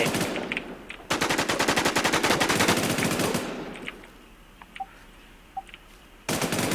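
Gunfire in the WarZ survival shooter game: a long, loud burst of rapid automatic fire, close and steady, then a quieter stretch with a couple of faint beeps before another burst.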